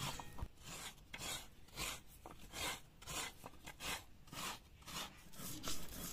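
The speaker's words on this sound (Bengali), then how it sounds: "শিলনোড়ায় ভিজিয়ে রাখা সর্ষে বেটে নিচ্ছে মা।" Soaked mustard seeds are ground on a stone slab with a grinding stone, a close, gritty rasping scrape repeating in steady back-and-forth strokes roughly every half second.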